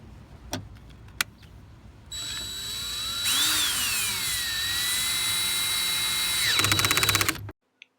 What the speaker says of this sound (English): I'm going to finish it with my drill